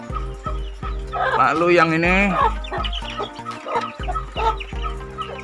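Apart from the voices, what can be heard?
young Katuranggan Sisik Naga chickens clucking in pen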